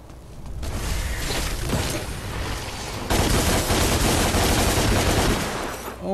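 Gunfire rattles in DmC Devil May Cry as a dense, loud, continuous stream of rapid shots with mechanical clatter, with a brief lull just after the start and another near the end.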